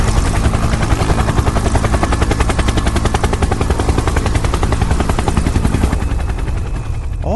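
A cartoon character spinning like a helicopter, with a loud, steady rotor-like whirring and rapid chopping pulses that run throughout before easing off at the end.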